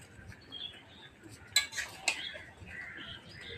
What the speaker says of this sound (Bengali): আমার জামাইবু এখন কুমড়ো তরকারি রান্না করছে, তাও আবার উনুনে